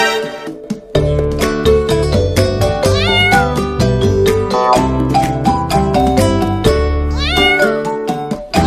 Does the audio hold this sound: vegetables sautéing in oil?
no